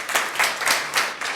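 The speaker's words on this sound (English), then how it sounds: "A round of applause for them again" Audience applause at a conference on power-sector dialogue, several bursts of clapping pulsing in waves, fairly loud and close, with no talk over it.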